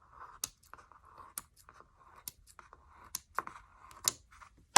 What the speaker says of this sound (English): carefully cut down the middle of all of your warp threads.